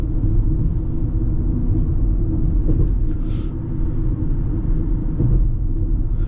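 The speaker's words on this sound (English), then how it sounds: "It's all fake sound coming through the speakers, but you can definitely hear it more." A steady synthetic engine hum drones inside a Ford Mustang Mach-E Select 2WD electric car, artificial engine sound played through the speakers, a low continuous rumble with no talking.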